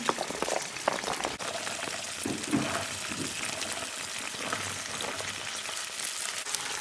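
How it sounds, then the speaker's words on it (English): Peas sizzle in hot oil in a home kitchen, a steady close crackle and bubbling hiss running evenly throughout with small popping bursts and no talking. "that's our peas already added into the oil"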